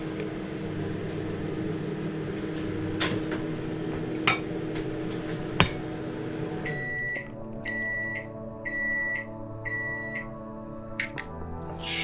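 A microwave oven melting butter and chocolate for brownies hums steadily with a few clicks and clunks, then stops and gives a run of repeated high beeps in regular groups.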